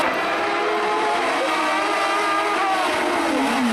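An Alpine A110 sports car revs hard and accelerates, its engine note climbing and sweeping upward in a loud, continuous, close-up roar with no talking.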